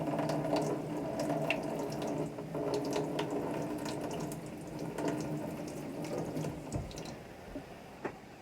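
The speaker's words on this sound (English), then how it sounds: "Let's get some water, agua on the head." Tap water runs steadily into a sink for a post-shave rinse, a continuous close splashing with small clinks and knocks scattered through it, no talking.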